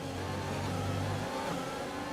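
An F1 car engine in the F1 2020 video game, a loud continuous drone that drops in pitch midway, with no talking.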